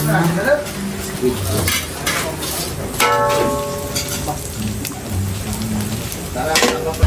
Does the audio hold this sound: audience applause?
no